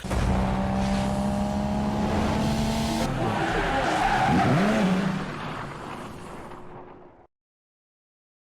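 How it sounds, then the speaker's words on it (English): A 1965 Volvo PV544 Sport with a B20 engine and deleted muffler revs hard, its raw exhaust loud and steady, then rises to a sharp peak before fading and cutting off abruptly. "This is a 1965 Volvo PV544 Sport with a B20 motor"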